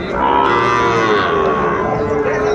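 Sahiwal bull calves at Ambari cattle market low loudly and steadily, overlapping moos filling the whole stretch with no talk over them.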